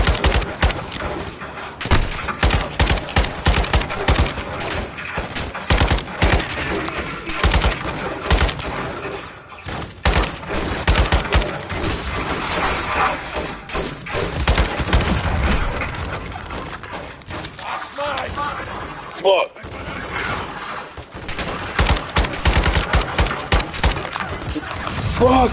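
Dense, nearly continuous gunfire from a Call of Duty Modern Warfare 2 multiplayer match, rapid bursts and booming shots packed together at close range for the whole stretch, with a few brief lulls and occasional voices mixed in.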